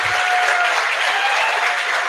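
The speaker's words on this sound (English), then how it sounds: "Round of applause, everybody." Loud, sustained applause from a crowd at a main session of a gathering, steady and dense for the whole stretch with no speech over it.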